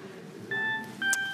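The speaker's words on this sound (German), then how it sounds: "Wer hat denn da sein Handy an?" Mobile phone ringing during a church service, two short electronic tone bursts, each a steady pitched beep with a brief pause between them, clear and fairly close.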